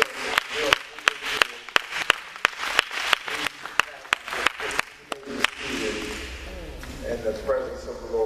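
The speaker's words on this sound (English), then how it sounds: "just give them a Holy Ghost hand clap" Church congregation clapping hands, a series of sharp, evenly spaced claps that thin out, followed by a murmur of voices and rustling near the end.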